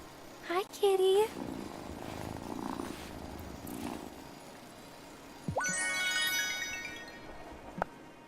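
A cat in the Wylde Flowers video game purrs softly under a low, steady game soundscape, with brief chimes and melodic tones from the game at the start and near the end.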